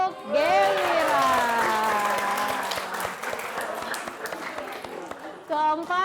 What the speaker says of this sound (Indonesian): Juara pertama, tepuk tangan untuk Gewira